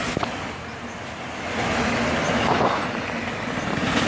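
A southbound CSX autorack freight train led by ES44AH locomotive 756, with a pushing rear locomotive, rumbles past in a steady broadband roar that swells midway and stays loud to the end.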